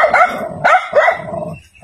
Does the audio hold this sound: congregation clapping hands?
no